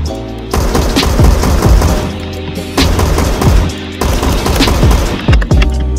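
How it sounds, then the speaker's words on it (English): Rapid bursts of automatic gunfire in the Roblox game Phantom Forces, sustained loud volleys with brief pauses between them, no talking. "Alright, some gunshots."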